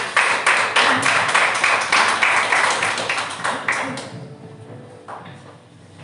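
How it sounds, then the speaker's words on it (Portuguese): Church congregation clapping hands together in steady rhythm during a Sunday family service, loud and even for about four seconds before stopping, leaving a quieter room. "as palmas louvam o Senhor"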